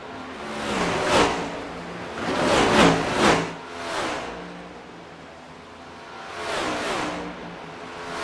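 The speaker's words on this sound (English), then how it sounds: "that's just awesome to hear the sound of these next gens as they whiz on by" NASCAR Next Gen race cars whiz past at Watkins Glen during a winter series event, a few separate high-pitched engine passes swelling and fading at moderate distance, some bunched close together, with quieter gaps between them.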